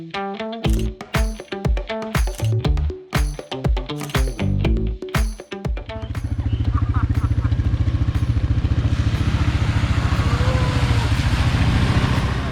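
An ATV engine revving and droning while someone rides it on a dirt trail, loud and close, following a stretch of rhythmic music with sharp beats.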